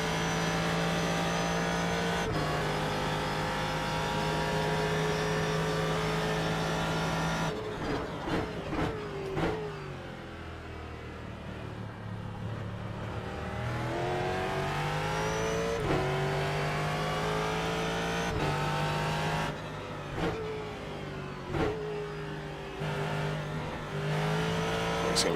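A Ford GT3 race car engine in iRacing at Virginia International Raceway drones loudly and steadily, its pitch climbing and dropping sharply through several gear shifts and throttle changes.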